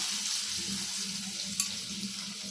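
Ginger and garlic drop into hot oil in a pan for a spiced potato dish, giving a steady close sizzle throughout with one brief clink partway, and no talking.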